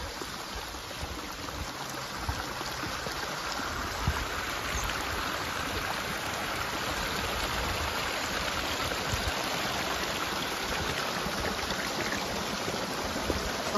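Gurgling stream water runs steadily along a fort trek in Maharashtra, a dense, continuous close rush of flowing water that stays even throughout with no voices.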